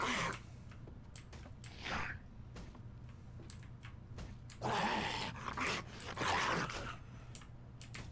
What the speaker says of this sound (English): Oh, found the dogs. They're asleep in the back.